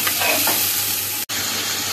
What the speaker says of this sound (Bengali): তো মশলাটা ভালো করে কষিয়ে নেব